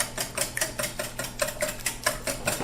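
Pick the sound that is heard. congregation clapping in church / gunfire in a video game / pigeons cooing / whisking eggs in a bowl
whisking eggs in a bowl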